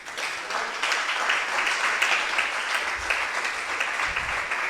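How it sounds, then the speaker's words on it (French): Audience applause at a roundtable discussion on self-control, a steady dense clapping wash lasting several seconds, moderately loud and even, with no talk over it. "il y en a une qu'on applaudit bien fort"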